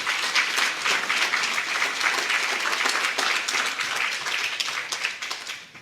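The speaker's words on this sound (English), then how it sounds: "a round of applause, please" An audience at a book launch applauds after a cheque is presented to a deputy campus registrar, steady dense clapping that holds evenly for several seconds without speech.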